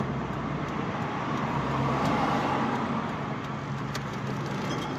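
An Infiniti Q45 cruises down a town main street held in second gear, its steady engine drone and road rumble continuous and close throughout, with no one talking.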